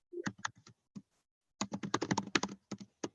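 Typing on a computer keyboard comes over a video call during a planning commission meeting: quick bursts of close, crisp key clicks, a short run, a pause, then a longer flurry, with no voices.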